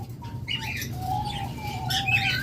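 Pet budgerigars, including a pair with chicks kept for sale, give soft, thin chirps and short warbles over a low background murmur, with faint fluttering mixed in.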